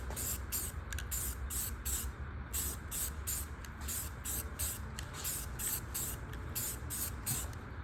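A spray gun laying white-wall paint onto GM transport wheels, a steady, close hiss running without a break from start to finish.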